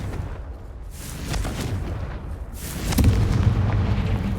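Confringo fire spell blasting in the Hogwarts Legacy video game, a loud booming explosive burst near the three-second mark over a rumbling low background, with an earlier softer blast and no speech.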